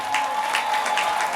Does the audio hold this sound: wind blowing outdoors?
no